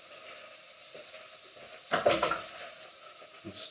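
Minced green finger chillies hit hot oil in a pan with a steady fizzing sizzle throughout, and a louder burst of crackling and scraping from stirring comes just before the midpoint. Another brief stir follows near the end.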